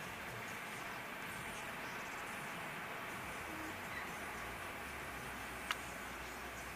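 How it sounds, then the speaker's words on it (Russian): An electric commuter train rolls past at a distance, a steady broad rumble and hiss with a faint clack, quiet and continuous throughout. "О, электричка."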